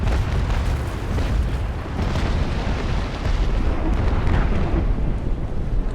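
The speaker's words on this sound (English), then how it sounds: "We're going to get another volley, and I'll try and angle a shot or two" Cannon volley from a sailing warship in the naval combat game Naval Action: a dense, continuous rumble of booming broadside fire and heavy low thuds lasting the whole stretch, loud and close with no pauses.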